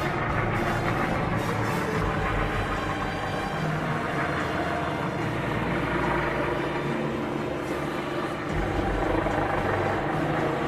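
A large white helicopter hovering at night, a steady continuous rotor and engine drone at moderate distance, holding an even level throughout with no clear speech.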